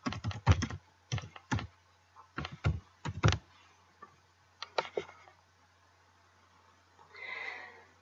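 Account number and password being typed on a computer keyboard: close, crisp bursts of keystrokes in short irregular clusters with pauses between, then a soft rustle at the end.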